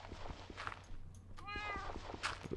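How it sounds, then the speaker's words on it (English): A cat meows twice inside the video game Minecraft, mid-distance and clear, over footstep-like taps and low game background sound. "Where's this cat?"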